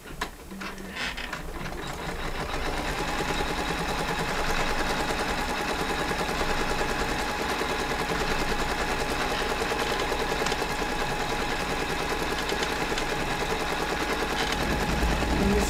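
An embroidery machine stitching black thread, a fast steady mechanical rattle and needle clatter running continuously, loud and close, with no talking.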